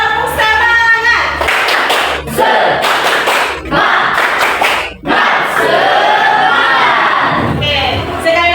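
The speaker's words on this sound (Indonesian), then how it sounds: "Tepuk semangat." A group performing a rhythmic spirit clap, sharp clustered hand claps in bursts separated by brief pauses, mixed with loud voices calling and shouting along, close and energetic.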